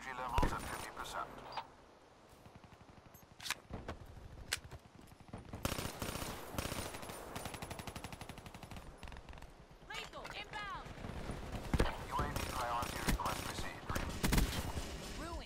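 Gunfire in the video game Call of Duty: Black Ops 3: sharp single shots and rapid automatic bursts crack throughout, close and loud, mixed with game announcer voices and player talk.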